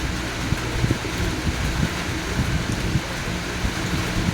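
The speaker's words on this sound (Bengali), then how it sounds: "অবিরাম বৃষ্টি পড়ছে" Steady rain falls continuously on a rainy day in Shyamnagar, a dense even hiss with low rumbling underneath and no voices.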